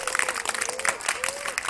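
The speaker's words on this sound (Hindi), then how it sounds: "पहले जोरदार ताली में जाइए दोनों के लिए।" A burst of school audience applause for two quiz teams, dense rapid clapping from many hands filling a hall, with a faint voice woven through the noise.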